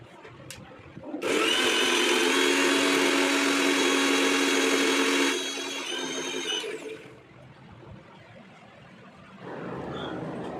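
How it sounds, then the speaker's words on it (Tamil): A kitchen mixer grinder whirs loudly as it grinds garlic, ginger, green chilli, mint, salt and a little water into chutney, a steady high motor drone for several seconds that drops in pitch, then cuts out before a softer hum returns. "தேவையான அளவு உப்பு, கொஞ்சம் தண்ணி சேர்த்து நல்லா அரைச்சிக்கலாம்."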